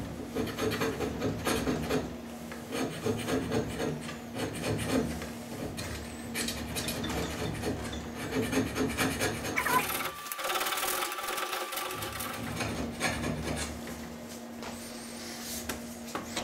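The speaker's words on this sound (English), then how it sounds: "I'm chiseling away material" A chisel pares material off a wooden straight edge blank in a continuous run of scraping, rasping cuts, close and steady, with a short quieter pause partway through.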